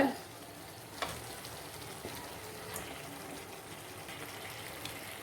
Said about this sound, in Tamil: இப்போ நல்லா மசாலையில் நல்லா பிரட்டி விடணும் காடையை